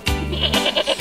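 A goat gives a single loud, close bleat lasting about a second, wavering and nasal, with no other sounds around it.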